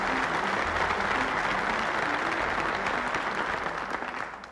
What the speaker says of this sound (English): Before you clap